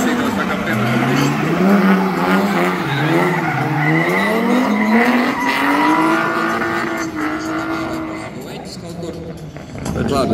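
Drift car at a street drift competition, skidding with sustained squealing tyres that wail and bend in pitch over a revving engine, loud and close throughout, with a commentator talking over it.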